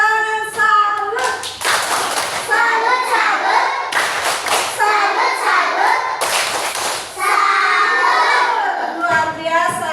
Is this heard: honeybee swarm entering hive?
no